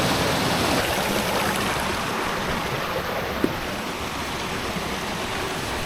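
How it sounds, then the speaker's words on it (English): Waterfall cascading on a mountain stream at Swindale in the Lake District, a continuous close rushing roar of falling water with one brief knock midway. "there's more cascades up there"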